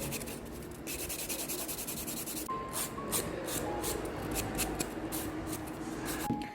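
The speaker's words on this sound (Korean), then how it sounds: "이 다음에 샌딩 버터로 갈아줄게요" A sanding buffer scrubs across a polygel nail extension in quick, repeated close strokes, a soft rasping rub that continues steadily throughout.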